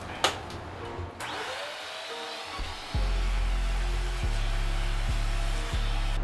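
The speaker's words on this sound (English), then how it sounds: "we're gonna have to vacuum up all the dust that got all over the place here" A vacuum cleaner switches on and roars steadily while sucking up tile dust from a floor being prepared for grouting. Its pitch dips and recovers several times as the nozzle is pushed around, preceded by a few knocks and handling sounds.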